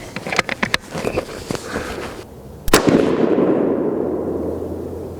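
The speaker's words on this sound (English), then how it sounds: "I'm going to go ahead and shoot for the right side of the center diamond here" A Remington 700 deer rifle in .243 Win fires a single loud, close shot with a sharp crack and a long rumbling decay, preceded by a few light handling clicks.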